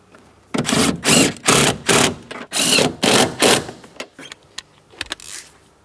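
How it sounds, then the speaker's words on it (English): Ratchet driving upper hardware of a rear shock absorber assembly on a 2003-2007 Cadillac CTS, a close series of about eight quick clicking bursts, then a few lighter taps. "We'll bottom it out and then torque it to 18 foot-pounds."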